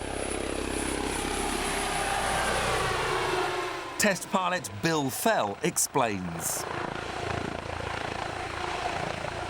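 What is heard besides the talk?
Comanche helicopter flying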